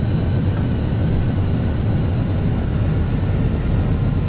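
Jet thrust reversers deployed on landing in the X-Plane 10 flight simulator give a loud, steady, broadband engine roar with a deep rumble that holds without a break.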